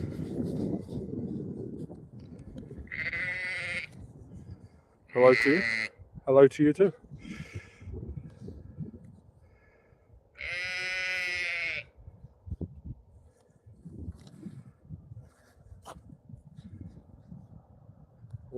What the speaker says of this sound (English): Little sheep friends trying to join the live stream.